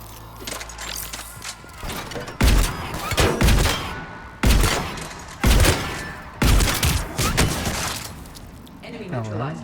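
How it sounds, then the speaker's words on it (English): Heavy shotgun blasts in the sci-fi shooter Mass Effect 3 boom out one after another, about five loud, evenly spaced shots with brief gaps, amid combat noise and rattling game effects. "Let me go for the shotgun at once."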